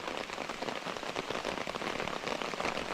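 Rain patters densely and steadily on a kayak close by, a continuous close crackle of drops with no talking.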